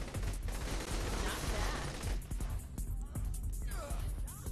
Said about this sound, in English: She's shooting random people, it seems.